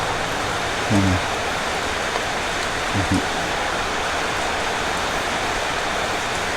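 Steady broadband hiss of heavy rain pouring continuously, with a couple of brief low voices murmuring beneath it.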